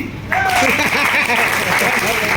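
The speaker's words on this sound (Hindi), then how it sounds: "बजाओ ताली।" An audience at a talk bursts into clapping, a sudden dense wash of applause that starts after a brief pause and carries on loudly while a voice keeps speaking over it.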